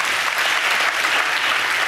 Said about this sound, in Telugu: చప్పట్లు కొడుతూ దేవునికి స్తోత్రాలు చెప్దాం.